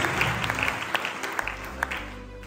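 A church congregation applauding in worship, a burst of many hands clapping at close range over a low background hum.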